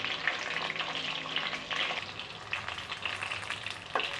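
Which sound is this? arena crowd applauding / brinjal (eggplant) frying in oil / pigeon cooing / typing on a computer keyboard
brinjal (eggplant) frying in oil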